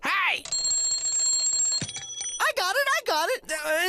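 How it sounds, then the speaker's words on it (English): An alarm clock rings with a steady metallic bell trill for over a second, close and loud, then animated cartoon voices take over. "It's an alarm clock."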